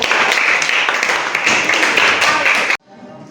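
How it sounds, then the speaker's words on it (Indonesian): Dense applause from a classroom audience at a school session, steady and loud for nearly three seconds before cutting off abruptly into quiet room tone. "Tepuk tangan sekali lagi."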